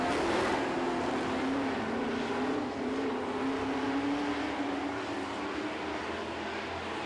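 Super Trucks race on a track, a loud pack of engines roaring continuously with a steady droning pitch that slowly rises, heard from the distance of the stands without talk.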